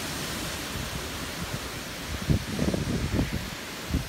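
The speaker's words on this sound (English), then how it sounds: "So the wind here is getting crazy" Strong tropical storm wind rushes through trees in Bethpage, NY, a steady broadband roar with leafy rustling that swells into louder gusts in the second half, with no voices.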